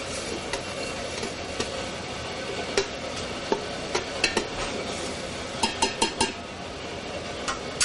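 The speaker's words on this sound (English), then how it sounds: "Give it another stir." A spoon stirring seafood stew in a pot with crushed red pepper and cayenne, producing soft continuous scraping with scattered sharp clinks against the pot rim, clustered near the middle and end.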